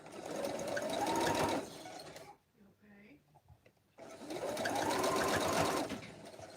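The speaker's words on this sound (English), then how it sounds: "After I start sewing" Sewing machine stitching a Halloween mug rug: two bursts of steady, close motorized needle whirring separated by a short pause, with the run rising in pitch as it speeds up.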